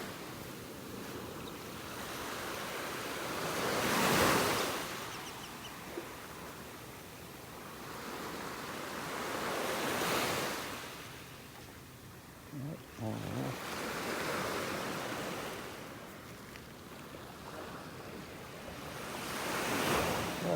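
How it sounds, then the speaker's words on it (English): Small ocean waves break gently on a beach in North Naples, Florida, the hiss of surf swelling and fading every five to six seconds over a constant rush of wind and water, with no voices. "Listen to those little waves."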